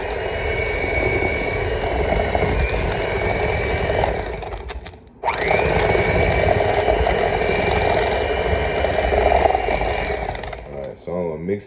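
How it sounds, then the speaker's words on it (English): An electric mixer whirs steadily while mixing red velvet cookie dough, a loud, close motor drone that dips briefly midway and then runs on, with background noise underneath. "I got my mixer right here."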